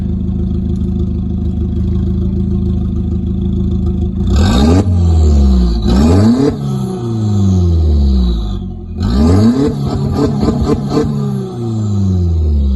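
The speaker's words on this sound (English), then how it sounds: "a little bit of a sound for you with no back box." A loud, raw car engine with no exhaust back box revs hard several times, each rev climbing then dropping, with crackling pops between bursts and a rough idle at the start.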